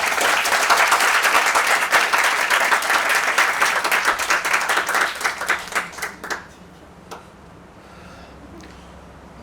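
An audience breaks into loud, sustained applause to welcome a speaker at an orientation session, dense clapping that thins into scattered claps and fades out after about six seconds.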